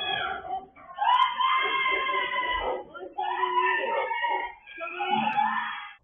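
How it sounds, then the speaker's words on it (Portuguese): Children screaming during a knife attack inside a house, heard from outside: high, shrill, drawn-out wails overlap almost continuously, rising and falling in bursts, with no clear speech. "Dava para ouvir gritos de crianças."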